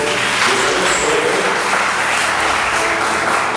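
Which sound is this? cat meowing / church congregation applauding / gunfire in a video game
church congregation applauding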